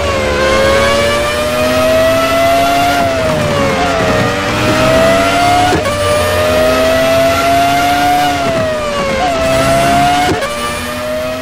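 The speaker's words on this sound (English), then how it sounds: "That is such an awesome sounding car." A race car engine in a racing video game revs hard and loud through repeated rising sweeps, each climb cut by a sharp gear shift before building again, with no talk over it.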